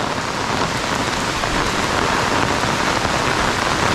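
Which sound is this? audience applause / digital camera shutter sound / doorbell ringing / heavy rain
heavy rain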